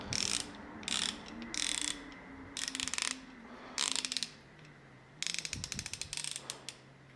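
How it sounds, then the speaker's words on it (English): A ratchet wrench clicks in repeated short bursts while a 14 nut is loosened on the rear wheel bolt of a pit bike, with quick pawl ticking in close, fairly quiet strokes separated by brief pauses. "you just want to loosen this bolt, this nut off this bolt here."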